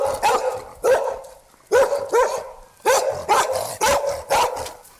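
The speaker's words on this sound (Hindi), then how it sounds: "सड़क पर कुत्ते की भौंकने की आवाज" A dog barks on a street in a series of loud, close single and double barks spaced irregularly, with brief silences between them and no talk.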